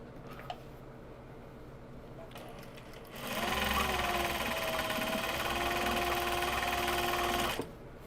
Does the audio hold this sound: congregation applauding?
no